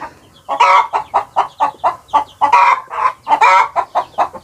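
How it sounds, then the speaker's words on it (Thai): Chickens cluck loudly and close by near ducks at the water's edge, giving a rapid, steady run of short, choppy clucks with no talking. "เป็ดกับไก่อยู่น้ำกัน"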